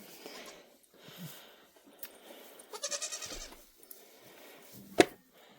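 A young bottle-fed baby goat bleats a few times, with one sharp loud cry near the end, amid quiet handling noises and some brief faint movement sounds.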